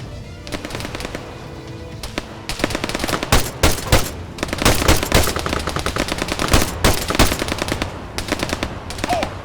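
Sustained automatic machine gun fire in the Arma 3 video game, rapid loud bursts with brief pauses, dense and continuous across the whole stretch with layered shots.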